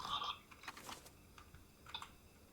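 Computer keyboard keys pressed while playing Jailbreak: a few quiet, separate clicks and taps in short bursts, alone and close.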